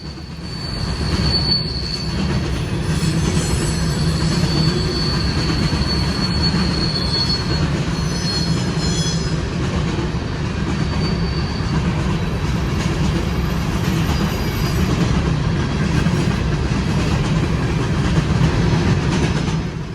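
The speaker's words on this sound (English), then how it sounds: "these types of trains you'll see on the BNSF Thayer are the heaviest freight trains" A heavy BNSF freight train with distributed power locomotives, ES44ACH and ET44ACH units, rolls past at Mammoth Spring, Arkansas, its wheels squealing and railcars rumbling steadily and loudly close by throughout.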